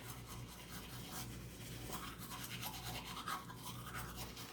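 Brisk, continuous toothbrush scrubbing on teeth, a close wet rasping that runs steadily throughout with no speech.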